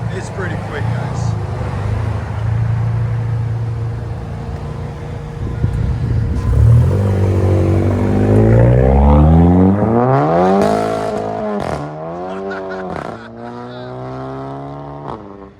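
Turbocharged 400-horsepower VW GTI accelerating hard, engine climbing in pitch through rising revs with quick gear shifts and turbo whoosh, loud and close, with a person talking over it.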